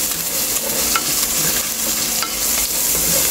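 Chopped garlic sizzles in a dry pan with no oil, a loud, close, continuous crackle with occasional scraping stirs.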